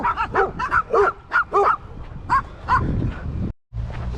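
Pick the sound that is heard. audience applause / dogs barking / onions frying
dogs barking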